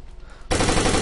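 Gunfire from the video game Takedown cuts in halfway through after a near-quiet start: a sudden, loud, dense burst of rapid automatic shots that carries on to the end.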